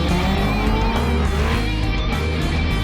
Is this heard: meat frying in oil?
no